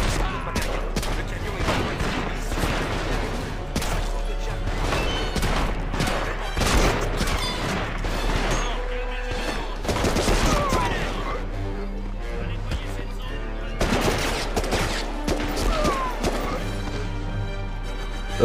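Dense gunfire and explosions in the PS2 shooter Medal of Honor: Rising Sun, continuous and loud across the whole stretch, with crashes and game sounds mixed in and a voice heard at moments.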